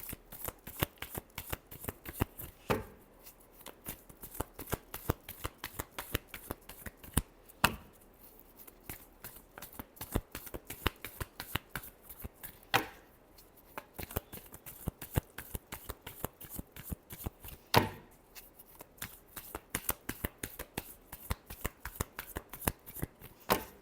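Tarot cards are shuffled by hand in quick, crisp riffling bursts that repeat in a steady rhythm, close up and with no talk.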